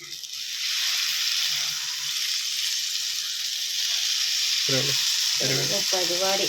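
Moringa (drumstick) curry bubbling in a pot, a steady close sizzling, hissing boil throughout, with a few brief voices speaking near the end.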